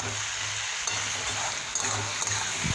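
Fried rui fish pieces are stirred through a spicy mixture in a pan, giving a steady close sizzle with soft scraping stir strokes and occasional light knocks, and no talking.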